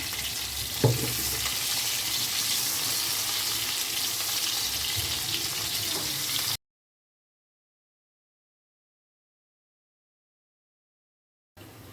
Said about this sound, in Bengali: আলুগুলো এবার আমি ভেজে নেবো এই একই তেলে।